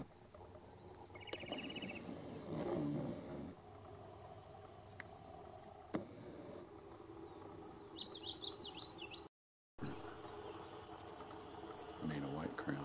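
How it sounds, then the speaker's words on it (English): A caged sparrow chirps in short, bright tweets at the Anahuac wildlife refuge area, scattered and fairly faint over outdoor ambience, with people talking and a brief dropout partway through. "Sparrow over here in the cage."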